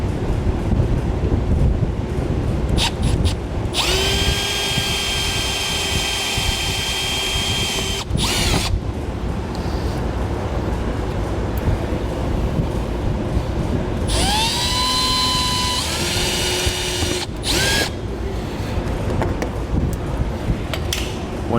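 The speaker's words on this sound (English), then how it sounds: "We're going to drill the center out of these 2 rivets." Power drill boring out two rivets on a 2013 Jeep Grand Cherokee, two close, loud whining bursts that rise in pitch as the bit spins up, separated by a pause, over steady background noise.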